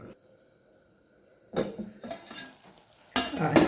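Eggplant (badanekayi) curry frying in oil, stirred in a pan: near-silence gives way to two bursts of close sizzling and scraping stir strokes, loud and crackly, with no talk.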